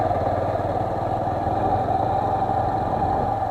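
A motorcycle climbs a rough, stone-strewn hill road at Susunia in Bankura, its engine a steady, loud, close drone with faint rattling and no break.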